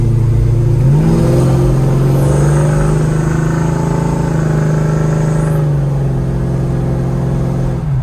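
A 1972 Chevrolet Chevelle pulls away and accelerates on the road, its engine note climbing then holding a loud, steady drone as it cruises, heard from inside the car.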